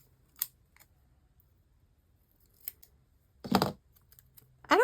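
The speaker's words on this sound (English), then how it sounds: "the problem is this is pretty dull now, so it's having problems cutting clear stickers" Quiet snipping and scraping of a dull craft blade struggling through clear sticker sheet, a few isolated clicks followed by two louder crunchy cuts near the end.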